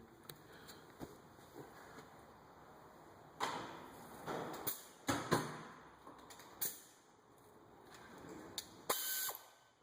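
Quiet clicking ratchet strokes come in short bursts with pauses between them as a ratchet loosens the 14 mm rear brake bolts on a 2006 Toyota Camry, with some metallic knocks and no talking.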